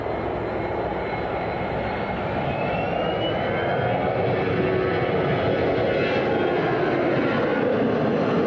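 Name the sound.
airplane at Miami International Airport on runway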